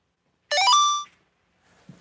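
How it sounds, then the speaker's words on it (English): A mobile phone ringtone plays a quick, bright rising run of electronic notes for about half a second, loud and close, then stops, followed by faint soft rustling. "Oh, I forgot to turn off the sound on my phone again."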